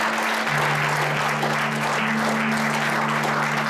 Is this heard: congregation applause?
yes